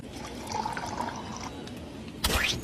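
A cocktail meant to be a mojito is poured and spilled, giving a running splash of liquid with a sudden louder gush near the end, close and wet with no talk.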